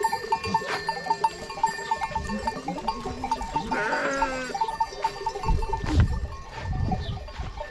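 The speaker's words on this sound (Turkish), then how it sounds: "kuyruklu koyun derler onu" Sheep and a ram bleat on a highland pasture, calls coming loud and close in several bursts among a flock, with faint clanking in the background.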